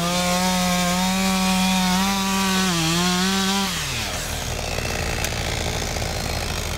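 A chainsaw cuts wood in a prison wood products industry. A loud, close, steady whine dips in pitch as the chain bites, then drops into a rougher, lower cutting roar.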